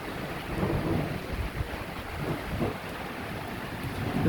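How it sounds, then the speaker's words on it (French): A moderate summer thunderstorm in late July, heavy rain hissing steadily, with low rumbling thunder rolling underneath at a distance. "un petit orage modéré, sympathique avec, oula, de la pluie"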